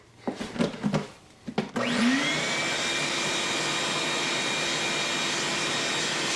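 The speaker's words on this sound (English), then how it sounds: "you can use your shop vac to clean up your Makita vacuum" A shop vac cleaning out a Makita cordless vacuum starts up after a few clunks and handling sounds, then runs as a loud, steady high-pitched roar to the end.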